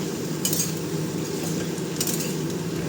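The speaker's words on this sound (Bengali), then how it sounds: "এবার এগুলো নেড়ে চেড়ে একটু ভাজতে হবে" Vegetables for a Bengali hilsa-head and Malabar spinach dish are stirred and fried in a pan, a soft steady sizzle broken by two clear metallic scrapes of a spatula, no voices.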